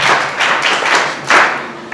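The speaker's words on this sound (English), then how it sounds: "Okay, clap for him too." A group of secondary school students clapping together in a classroom, a loud dense patter of hands that swells in a few bursts, with the strongest surge near the end.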